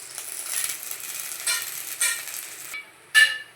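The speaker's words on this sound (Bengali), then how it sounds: "তো এই দেখো পেঁয়াজটা আর কাঁচা লঙ্কাটা ভাজছি।" Onion and green chili frying in a hot wok for a fish-head masala curry, a steady close sizzle with a few sharper stirring scrapes and a brief louder clatter near the end.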